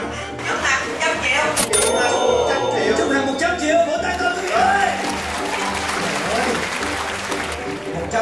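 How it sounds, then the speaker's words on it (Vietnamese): Applause at a Vietnamese celebrity charity fundraising event, steady clapping across the whole stretch with a loud crowd, chatter and voices mixed through it. "Vỗ tay cho chị ơi"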